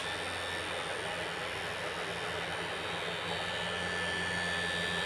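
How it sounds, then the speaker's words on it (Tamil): An HVAC indoor blower fan motor runs steadily, giving a continuous even whoosh of moving air with a low hum at constant loudness throughout, with no voices. "ஃபேன் மோட்டர் நல்லாவே ஓடிட்டுருக்கு."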